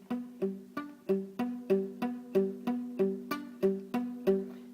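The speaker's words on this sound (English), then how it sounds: "I'm going to do a little bit of palm muting" A palm-muted three-note guitar chord is picked in an even, chugging rhythm, about a dozen short damped hits with quick decays, played close and alone.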